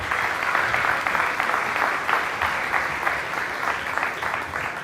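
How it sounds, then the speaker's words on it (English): Sustained audience applause at a startup conference's arena stage, a dense steady clatter of many hands lasting throughout with no talk over it. "Big applause for Ken the Legend Morse."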